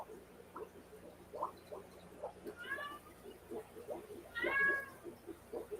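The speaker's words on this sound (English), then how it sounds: "That's a cat messing with a dog." A cat meows near a dog, two drawn-out nasal meows standing out over low background chatter and murmuring voices.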